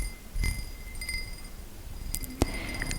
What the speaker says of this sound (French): J'aime bien les bruits sur les objets en verre.